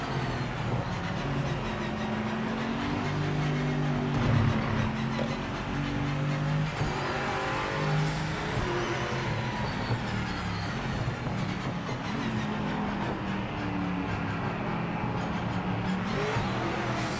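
A BMW race car engine in the racing game Project Motor Racing drones steadily and loudly for the whole stretch, with pitch rising and falling through gear changes and some tire noise, with no talking.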